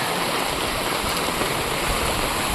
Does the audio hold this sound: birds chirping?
no